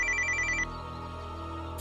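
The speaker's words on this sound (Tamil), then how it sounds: "Chintamani madam phone பண்றாங்கடா." A telephone rings indoors in a scene from a Tamil TV serial. The short electronic ring trills for under a second and then cuts off, leaving a quiet room.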